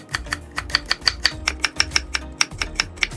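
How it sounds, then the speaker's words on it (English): A knife julienning a quarter of a carrot into thin strips on a cutting board, heard as about fifteen quick, crisp chops in an even, steady rhythm, close and fairly loud with no voices. "Julienne 1/4 of a carrot."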